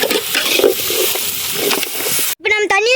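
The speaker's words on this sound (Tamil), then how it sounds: "கறி நல்லா தாளிக்கணும்." Goat head curry sizzles loudly in hot oil while being tempered over an outdoor fire in a forest, the steady frying hiss cutting off abruptly before a person speaks.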